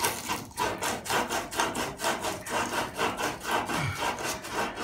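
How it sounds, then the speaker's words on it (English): The end of a plumbing pipe being sanded by hand while a toilet is replaced, a close, steady back-and-forth rasping in an even rhythm with no talk. "And I'm going to sand it."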